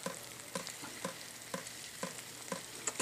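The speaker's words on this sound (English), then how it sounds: "the sounds made by the pressure on the grapes" Chilean Merlot grapes under pressure in a wine press give off faint wet crackling and squelching, with soft clicks about every half second over a low, steady background.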